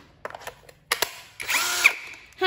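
Akuza cordless drill with a 13 mm auto-locking chuck: a few short trigger clicks and brief whirring bursts, then a longer close, loud motor spin, with nobody talking.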